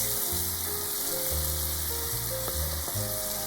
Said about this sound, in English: Add a minced pork and fry them.